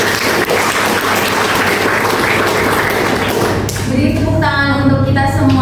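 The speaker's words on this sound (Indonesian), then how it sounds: "Beri tepuk tangan" Audience applause at a student debate event at a university in Semarang: steady, dense clapping from a crowd, with a voice speaking over it near the end.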